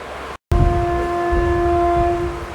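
Puducherry Express 16862 begins pulling out, a steady, loud multi-tone horn blaring near and continuous after a brief dropout, over a low rumble of the train starting to move.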